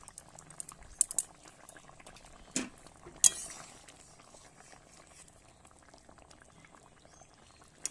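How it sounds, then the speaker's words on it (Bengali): Bhangan fish curry simmers in a pan with a soft, steady bubbling, close and quiet, broken by a few sharp clinks of utensils early on and near the middle. "আরও 5 থেকে 7 মিনিট এইভাবে ফুটতে থাকবে"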